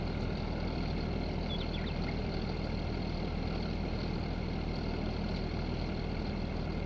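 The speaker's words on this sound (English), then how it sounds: "anyone else find the sound on this tractor particularly? It's something doesn't seem right about it. It doesn't change at all." A tractor engine in Farming Simulator 19 drones at a steady, unchanging pitch throughout, a constant low rumble with no revving.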